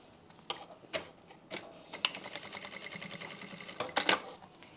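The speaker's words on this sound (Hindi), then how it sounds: "यहां पे भी हमें पहले सीधी सिलाई लगानी है।" A sewing machine stitches a straight seam on trouser fabric, giving bursts of quick mechanical rattling separated by short pauses, close and fairly quiet.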